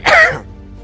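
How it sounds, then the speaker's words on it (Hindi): A single sharp cough, close and loud, lasting under half a second, followed by quiet room tone. "बस ऐसे खांसी आ जाती है।"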